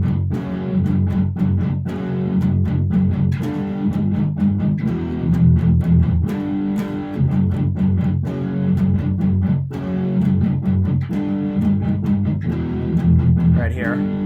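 Distorted rhythm guitar riff played with palm muting that gradually opens up, giving chugging, tightly rhythmic chords with sharp repeated attacks that sound loud and close, with no voices.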